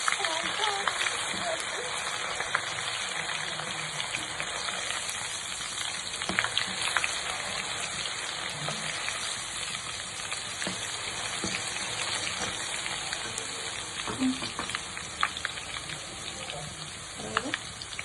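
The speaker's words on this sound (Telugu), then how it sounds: "పచ్చివాసన వేయాక వేయించాలి అల్లం పేస్ట్." Ginger paste fries steadily in a pan for chicken pachadi, giving a continuous dense sizzle with scattered crackles and occasional stirring scrapes, close and even in level, while a voice talks faintly at times.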